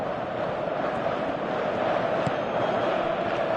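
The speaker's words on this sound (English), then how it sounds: "Crowd appreciates good football all round there." Broad, steady roar of a stadium crowd in a football video game, a constant dense wash of massed voices with no distinct breaks, loud throughout.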